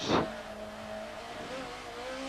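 A 1992 British Touring Car Championship race car in onboard view, its engine note dropping and holding a steady tone after a gear change, with a brief burst of noise at the start and continuous engine drone throughout.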